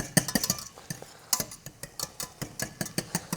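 A whisk mashing boiled potatoes in a bowl, a close series of rapid metallic clinks and scrapes in an uneven rhythm, fairly quiet with no talking.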